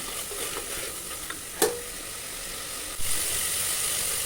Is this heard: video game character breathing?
no